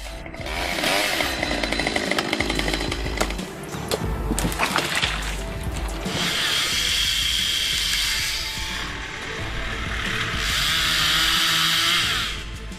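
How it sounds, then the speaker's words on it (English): A loud chainsaw roars during tree removal, rising and falling as it bites into wood. Cracks and rough cutting noises come in surges, close by and without talk. "From the sound of a chainsaw to the crack of a falling trunk, skilled operators show complete control."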